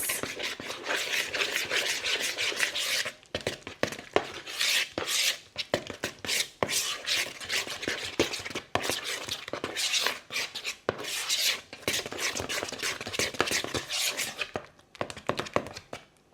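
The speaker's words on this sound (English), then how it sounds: "just go ahead and give all of this a good mix" Broccoli in a bowl is tossed with a packet of ranch seasoning, making soft, dense rustling and scraping mixing sounds with brief pauses between bursts, close and fairly quiet.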